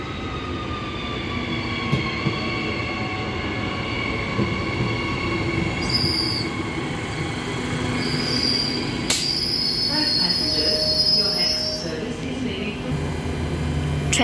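A Butler service electric train pulls into the Clarkson platform, a steady rolling rumble with high wheel squeals rising partway through, heard close up, with a public address voice over it.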